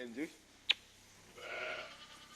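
Sheep bleating in a sheepfold, faint and somewhat distant: a short call, then a longer wavering bleat over quiet background.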